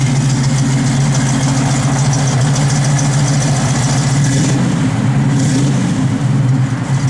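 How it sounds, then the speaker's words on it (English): A cold 1971 Chevrolet Nova big-block V8 runs steadily at a deep, loud idle, a constant low rumble close by with no talk over it. "Good sounding big block."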